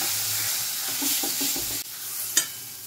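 Jackfruit and potato mixture tipped into a pan of spices and stirred, with a steady hiss of frying, soft scraping stir strokes and a sharper clatter near the end, close and fairly loud with no talk.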